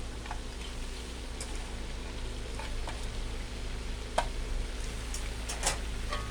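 Bamboo shoots stir-fried with basil leaves in a pan give a steady, quiet sizzle with a low hum beneath, broken by a few sharp scrapes and clicks of the utensil.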